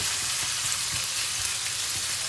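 Sago pork filling stir-fries in a pan, giving a steady, close sizzle with soft scraping stirs throughout and no talking.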